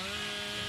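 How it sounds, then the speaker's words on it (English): Hillbilly's chainsaw revving hard in a sustained sprint in the Dead by Daylight video game, a loud, buzzing, continuous motor whine with no break across the short burst. "this was the good chainsaw sprint"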